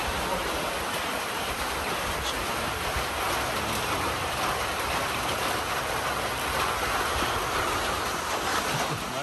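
Rain falling outdoors in Haiti, a loud dense continuous hiss and patter that stays even from start to finish with no talk over it.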